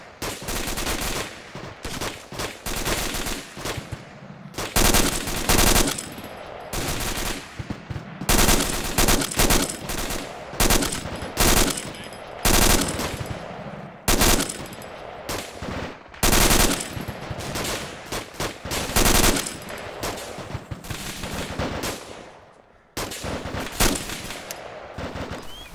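Sustained gunfire from a military battle in the video game Arma 2: dense machine-gun bursts and rifle shots in rapid, overlapping volleys, loud and near, with brief lulls between bursts.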